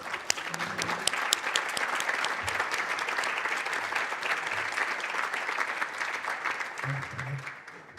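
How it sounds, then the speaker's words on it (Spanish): A university audience at Deusto applauds a business breakfast on cybersecurity, steady close clapping that keeps a constant density and fades slightly near the end, with faint voices beneath. "muchas gracias por el aplauso"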